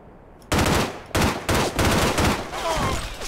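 Gunfire in the shooter game S.K.I.L.L. rips out in loud bursts of rapid automatic shots, four or five close, sharp volleys separated by brief pauses.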